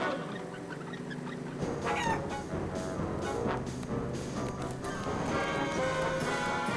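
Chickens cluck and squawk in Wallace & Gromit's Grand Adventures, a busy flock close by over a steady game backdrop with no talk.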